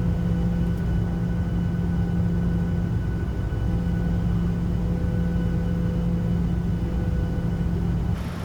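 A Boeing 737-600 on approach to land in a flight simulator: a steady, loud, continuous engine rumble and hum with a constant tonal drone, unbroken throughout.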